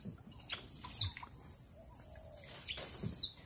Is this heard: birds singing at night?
yes